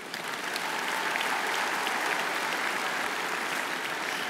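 Sustained, dense applause from a large audience at a United Russia party congress, steady and even in loudness throughout.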